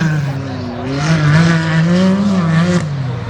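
Modified trucks race side by side around a Tuff Trucks dirt track in Windsor, Pennsylvania, with engines revving loud and steady in a close, continuous roar whose pitch rises and falls over the few seconds.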